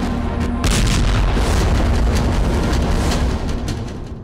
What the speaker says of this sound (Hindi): एक के बाद एक 4 रॉकेट दागे गए